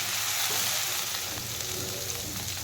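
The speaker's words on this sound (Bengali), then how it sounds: "সেই ডাঁটাগুলো দিয়ে একটুখানি আগে ভেজে নিচ্ছি" Vegetable stems and potato pieces frying in hot oil give a dense, even sizzle, loud and close, with faint stirring underneath and no talking.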